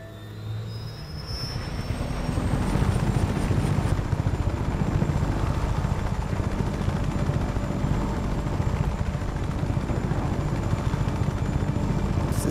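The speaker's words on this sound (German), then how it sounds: "So, jetzt versuchen wir das nochmal mit dem Helikopter." A helicopter in Just Cause 3 spins up and holds a loud, steady rotor roar with a dense engine rumble, close and continuous with no talk over it.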